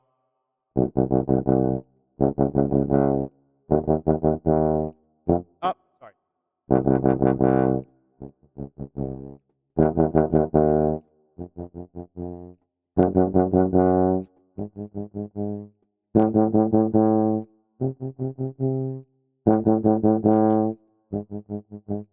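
Trombone and euphonium notes play a short repeated tune, with phrases swinging between loud and noticeably softer, clear and close with no talking over them.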